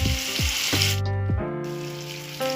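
Green chillies and onions frying in oil with tempering seeds, a steady bright sizzle under a low hum, with a few short sliding stirs and a brief drop in the hiss midway, no talking.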